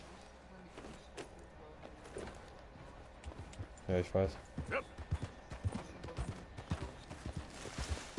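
A horse's hooves clip-clop steadily in the video game Red Dead Redemption while someone talks over the galloping.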